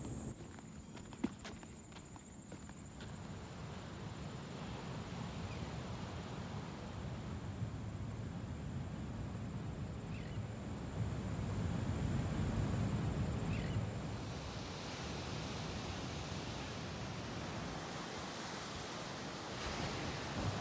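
Atlantic Ocean waves at Island Beach State Park roll in as a steady broadband surf roar, with crunching footsteps on sand close by throughout and a faint high whine early on.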